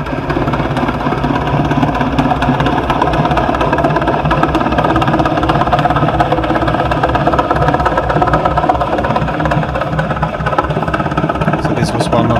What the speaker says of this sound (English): One of the ships passing by.